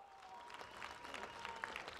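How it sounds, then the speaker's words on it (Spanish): Audience applause at the close of a talk at a book fair, a steady wash of clapping from a crowd that stays even in loudness throughout, with no voices over it. "pero muy fuerte aplauso."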